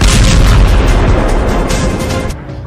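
A loud, sustained booming blast from a 155 mm artillery cannon rolls out and slowly fades, like a heavy gun firing nearby.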